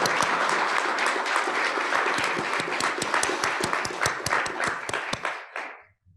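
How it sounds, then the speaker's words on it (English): A crowd's round of applause at a speech event, dense steady clapping from many hands that fades out near the end, leaving brief quiet. "I want to give all of you a round of applause."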